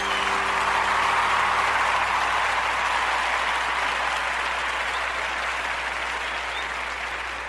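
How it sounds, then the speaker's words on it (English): A birthday celebration crowd gives a sustained round of applause, dense steady clapping throughout that slowly tapers near the end, with no speech over it. "Round of applause."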